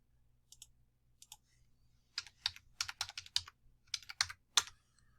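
Computer keyboard typing into a search field, several short bursts of crisp key clicks building into a quicker run of keystrokes, close and fairly quiet over a faint low hum, with no voices.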